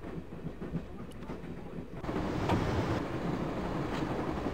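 A moving train in the video game Broken Sword rumbles steadily with a low rolling roar and faint rhythmic clacking, growing louder and fuller partway through as if heard from closer or outside.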